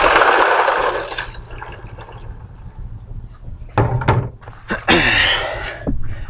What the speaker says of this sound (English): Starting off by getting that ice in the bucket so that it gets nice and cold.